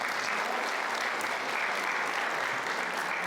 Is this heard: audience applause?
yes